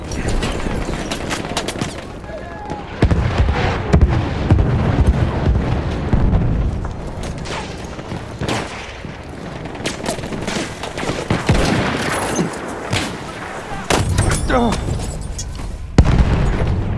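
Battlefield 1 multiplayer Rush battle in a desert with dense, loud booms and crackling gunfire rolling continuously, with artillery blasts among them and in-game voices calling out over the chaos.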